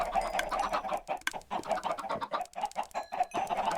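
Minecraft chickens cluck repeatedly in quick, overlapping bursts, a busy flock close by with no talking.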